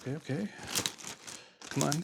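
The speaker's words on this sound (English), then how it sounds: "a whole other layer of plastic bag, a bag within a bag" Plastic bag packaging being unwrapped while unboxing art supplies, crinkling and rustling in bursts close by, with a person talking over much of it.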